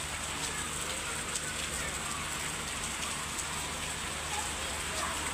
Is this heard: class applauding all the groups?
no